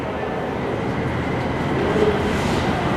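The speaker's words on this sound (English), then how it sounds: "oh look, there is a train here." Steady low rumble of a train idling or moving slowly nearby at Los Angeles Union Station, a continuous mechanical drone with no voices.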